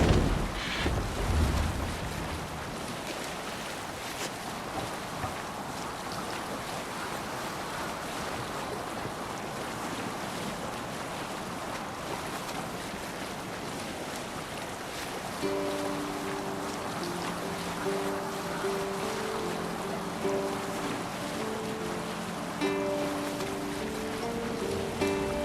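A Viking longship in Assassin's Creed Valhalla sails through waves, with steady wind and rushing water washing over the hull, joined later by a low sustained drone; continuous and fairly loud throughout.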